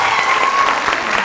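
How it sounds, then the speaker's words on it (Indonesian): A classroom audience at an Indonesian parliament education session applauds in a steady, loud wash of claps for just over a second, with no talk on top. "Tepuk tangan buat semuanya."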